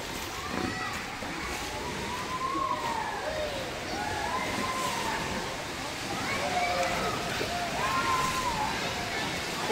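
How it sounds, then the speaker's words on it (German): Waves start up in the wave pool at the Vitamar water park, with continuous sloshing and splashing water mixed with distant crowd noise and the high shouts of swimmers throughout. "Und jetzt geht die Welle los."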